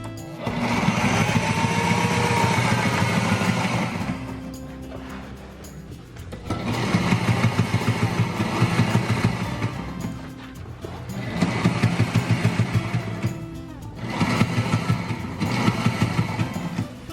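A sewing machine stitches fabric aboard a sailboat, running in three steady bursts of rapid mechanical chatter with short pauses between them.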